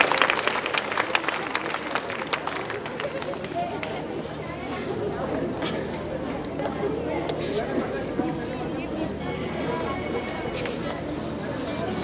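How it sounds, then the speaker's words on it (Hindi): Clapping from a school annual function audience in 2024, sharp hand claps at the start giving way to scattered clapping amid busy crowd chatter and movement, fairly near and moderately loud. "उनके परफॉर्मेंस में आप लोग बीच बीच में तालियां जरूर बजाइएगा।"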